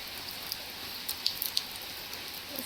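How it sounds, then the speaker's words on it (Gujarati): Steady rain falling outdoors as a faint, even hiss, with a few scattered drips tapping nearby and no voices. "સરસ મજાનો એવો વરસાદ છે"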